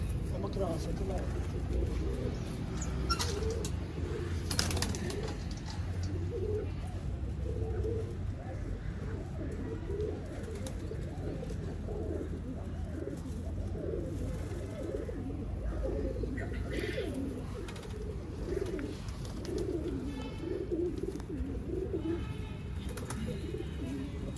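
Pigeons of the Mian Nazir bloodline coo steadily in the background, soft and low, under almost continuous conversation between men.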